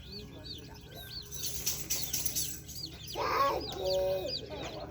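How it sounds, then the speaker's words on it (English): Young chickens clucking and calling close by, in a mixed pen of baby birds alongside ducks; short repeated chirpy clucks run throughout, with a person speaking partway through. "These ones are chickens."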